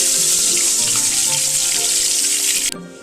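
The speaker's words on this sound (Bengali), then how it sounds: "এইভাবে আমি বাকি মাছগুলো ভেজে তুলে নেব। বাকি মাছগুলো আমি ছেড়ে দিচ্ছি।" Fish sizzles steadily in a pan of hot oil, a loud continuous hiss and crackle that cuts off abruptly near the end; folui fish fried for a Bengali recipe.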